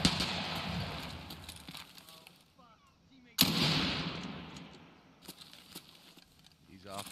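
Gunfire in a shooter video game with player scavs: an opening crack, then a loud sharp shot partway through whose noisy tail fades over seconds, with a player talking throughout.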